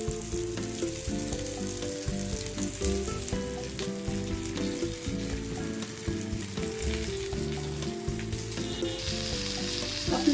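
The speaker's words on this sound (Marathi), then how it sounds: "दुसऱ्या साईडने पण आपण छानपैकी खरपूस तळून घेणार आहोत।" Pomfret fish frying crisp in a pan on its second side: a steady, even sizzle and crackle that lasts throughout, mixed under tonal background music.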